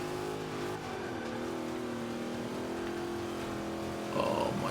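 Engine of a vintage Ford Mustang revving in Forza Motorsport 5 from the bonnet camera, a steady mid-pitched drone with rising harmonics as it accelerates, a brief shift near the end.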